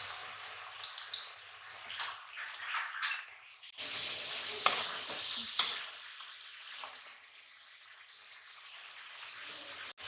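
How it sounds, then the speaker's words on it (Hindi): Potato chips deep fry in hot oil, a soft, steady bubbling hiss that swells into a louder, rushing sizzle partway through before settling back down. The sound stays fairly faint, with no voices. "ये गर्म हो चुका है, अब हम इसमें चिप्स डालेंगे।"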